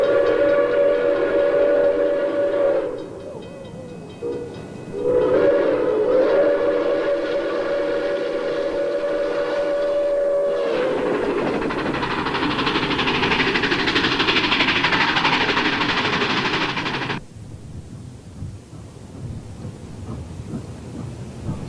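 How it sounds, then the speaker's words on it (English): An Erie Berkshire steam locomotive hauling a local freight train in New Jersey sounds a long, loud whistle in several blasts, followed by a heavy rumbling roar of the passing train that cuts off abruptly, leaving faint background noise. "Erie Berkshire on a local freight."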